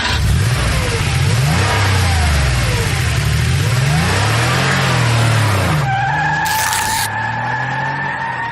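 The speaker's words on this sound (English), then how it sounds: "rev it up" A car engine revving hard with skidding tires, loud and close, its pitch sweeping up and down repeatedly before settling into a steadier whine.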